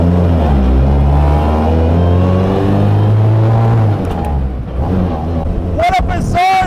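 BAC Mono street-legal race car engine revving hard and accelerating, loud and close with rising then falling pitch sweeps, while someone talks over it.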